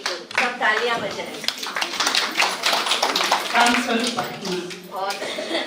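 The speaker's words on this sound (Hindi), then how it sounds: "सब तालियां बजाएं।" A crowd claps together in dense, lively applause at a Shivshakti program in Biratnagar, Nepal, staying loud and continuous throughout, with a few voices mixed in.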